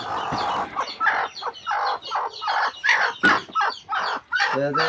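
Chickens on a small poultry farm cluck and squawk in short, busy bursts close by, one call after another, with a crowing-like cry near the end.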